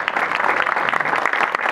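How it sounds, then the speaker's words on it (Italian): An audience applauds at a ceremony unveiling a new sundial, with dense, loud clapping throughout. "Un applauso a lei."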